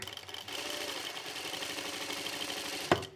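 An industrial sewing machine fitted with a gathering (shirring) foot runs steadily at a set stitch length, a close, continuous mechanical whir with rapid needle ticking, ending in a sharp clack.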